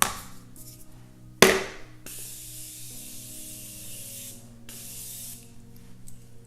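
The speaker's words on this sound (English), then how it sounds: "I'm going to spray my face one last time." A single short burst of makeup setting spray misted onto the face, loud and close, followed by a softer hiss trailing off into quiet room tone.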